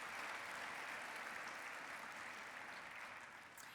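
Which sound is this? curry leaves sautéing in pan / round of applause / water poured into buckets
round of applause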